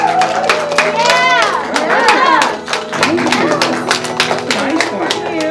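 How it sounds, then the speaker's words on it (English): A crowd claps and chatters in applause for teachers at a school awards event, with voices and cheering mixed loudly over scattered clapping. "Let's give your teacher a big round of applause."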